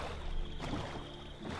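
Steady low rushing and sloshing of a boat moving through water in Minecraft, a soft continuous wash with faint wind.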